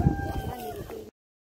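A rooster gives a single short crow, fairly close, cut off abruptly after about a second.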